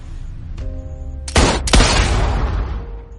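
Movie gunfire, two loud close gunshot blasts in quick succession, each with a booming tail that rings on and fades out.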